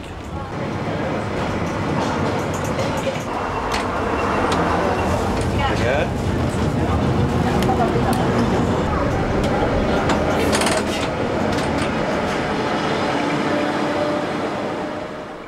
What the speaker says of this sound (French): Le tramway ancien modèle emmène les passagers vers une destination incontournable à Göteborg.